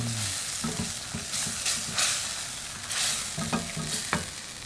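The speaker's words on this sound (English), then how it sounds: "Give it a stir" A mango chicken cashew curry is stirred in a pan, with a spoon scraping and knocking in irregular strokes over a soft, steady sizzle. The sound is close and moderately loud, and no one speaks.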